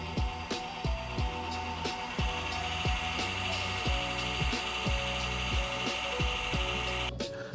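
A Cue Smith Deluxe cue lathe spins with its sled turning, giving a steady mechanical whir under a fast, regular clicking and ticking rhythm, close and constant until a brief break near the end.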